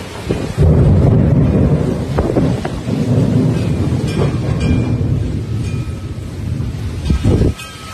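A Springtown, Texas thunderstorm with lightning and rain rumbles in heavy, sustained thunder rolls under a steady wash of rain, loud and close, with a sharper crack near the end before it eases.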